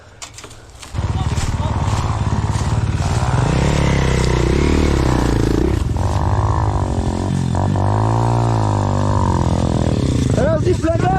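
A 300cc enduro motorcycle pulls hard up a hill on an abandoned motocross track, its engine loud and close with rising and falling revs throughout, while a rider talks over it.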